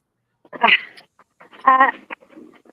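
A 9-month-old puppy gives close, loud whimpers and whiny yips in two bursts, with a couple of short yips and soft panting between them.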